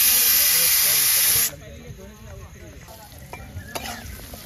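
Potatoes frying in a pan outdoors give a loud, close sizzle for the first second and a half, then settle into a quieter, steady crackle with faint voices in the background.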